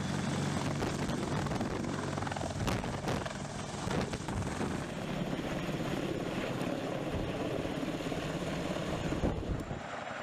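CH-47 or CH-53 military helicopter lifting an armored vehicle and carrying it toward a drop zone: a steady, loud rotor and engine roar with wind buffeting the microphone, continuous and close throughout.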